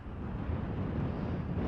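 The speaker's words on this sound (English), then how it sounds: "And it's a little windy out here." Steady wind buffets the microphone, a low rushing roar that holds evenly for a couple of seconds with no voices.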